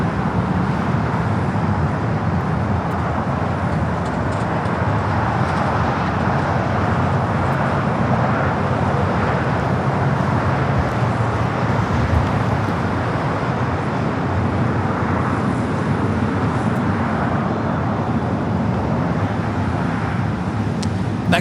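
An American Airlines A321neo jet taking off at LAX, a steady broad engine roar that holds loud and even throughout, with some distant road traffic mixed in.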